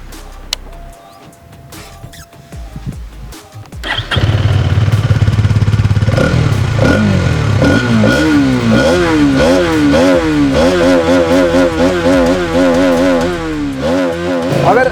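A Hero XTreme 250R motorcycle with a 250cc engine being ridden, loud and close, its engine revving up and down through rising and falling pitch sweeps after a quieter start.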